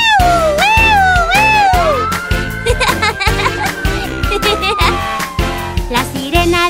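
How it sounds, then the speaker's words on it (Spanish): A fire truck siren wails in rising and falling glides over an upbeat, bouncy musical beat of a children's song. "La sirena del camión de bomberos suena por toda la ciudad."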